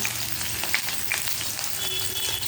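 Chopped onion hits hot oil in a wok for capsicum masoor dal, giving a steady, close, even sizzle with a few faint crackles and no voices.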